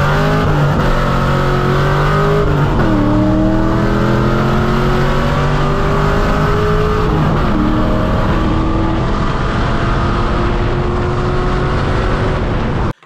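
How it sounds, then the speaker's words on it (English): A stock C6 Corvette Grand Sport with a 6.2-liter dry-sump LS3 V8 accelerating through its gears from inside, the engine note climbing steadily and dropping with each shift, loud and continuous before cutting off abruptly. "Even though everything's stock, it still feels precise when you're going through gears,"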